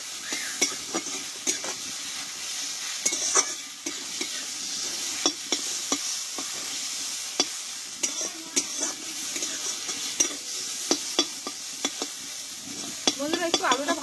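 Spiced potatoes stirred and fried in a pan, a steady close sizzle broken by frequent scraping and clinking of the spoon against the metal, with no talk.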